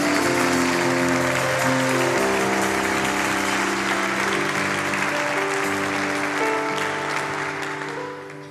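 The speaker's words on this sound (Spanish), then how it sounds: "Fuerte el aplauso al Señor." A church congregation breaks into loud, sustained applause while instrumental music with held chords plays beneath it, the clapping staying strong before tapering slightly at the end.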